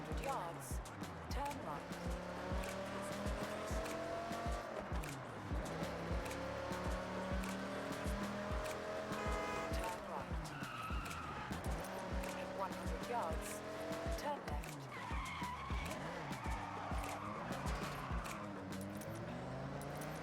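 Car engine in Forza Horizon 6 revving and shifting through gears on cross-country snow terrain, tires squealing as it slides, loud and continuous throughout with a voice talking over it.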